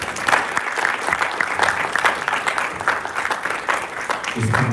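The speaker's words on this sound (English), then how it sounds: "I kindly ask for a big applause to the commentators and presenters" Audience applause at a formal commemorative forum session, a dense, steady wash of clapping from a room full of people, fairly close and sustained throughout with a faint murmur beneath.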